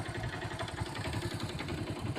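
A motorcycle engine idles steadily at close range, a low, even chugging pulse that runs throughout with no voices over it.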